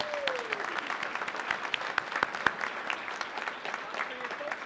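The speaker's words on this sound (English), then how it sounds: "I want to thank them and give them a round of applause also" Audience applause for youth coaches and mentors at a community athletics awards event, steady moderate clapping spread across a crowd with a few sharper claps standing out, continuing for several seconds.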